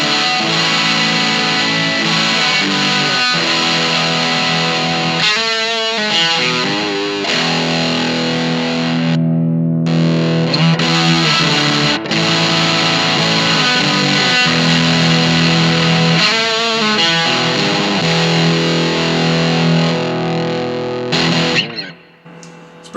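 An electric guitar driven through a 1981 RAT distortion pedal into a Vox AC10 amp, miked with a Shure SM57, plays loud, saturated chords and riffs continuously for over twenty seconds before cutting off abruptly.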